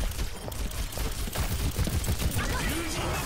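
Rapid gunfire crackles in a dense, continuous stream during an Overwatch match, busy game effects layered over a low rumbling bed, steady and moderately loud throughout.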